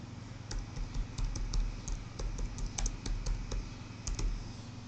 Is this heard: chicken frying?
no